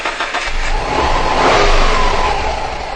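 A misfiring Subaru engine revs up under throttle, a loud, rough, uneven roar that swells and holds near the middle, then eases slightly, with a steady low rumble beneath.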